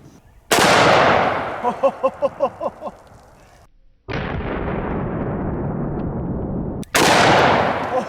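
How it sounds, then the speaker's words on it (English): Loud, booming shots from a .500 S&W Magnum snub-nose revolver loaded with 275-grain solid copper hollow points, fired at 2-liter bottles outdoors. Three heavy blasts are spaced a few seconds apart, each with a long rolling echo, and sharp rhythmic clatter follows the first. "So now we got some 2 liters set up and we're gonna be loaded up with some double tap ammunition."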